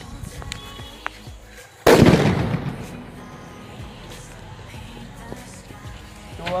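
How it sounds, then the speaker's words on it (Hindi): A firecracker bomb with a long fuse goes off in a single sharp, loud blast that leaves a decaying rumble, after a quieter stretch of faint background noise and small ticks. "इस बम की यही खास बात है जो मुझे बहुत पसंद है कि बत्ती बहुत लंबी है"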